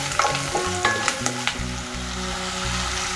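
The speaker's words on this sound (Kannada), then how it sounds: "ಬೆಳ್ಳುಳ್ಳಿ ಒಂಚೂರು ಲೈಟಾಗಿ ಕಲರ್ ಬರೋವರೆಗೂ ಫ್ರೈ ಮಾಡ್ಕೊಳ್ಳಿ" Crushed garlic fries in hot oil with a loud, bright sizzle, sharp spatters and stirring clatters in the first half giving way to a steadier hiss.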